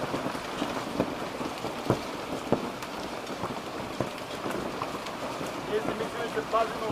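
Hail falls heavily as a dense, steady patter of ice striking surfaces, with scattered louder cracks of stones hitting near by.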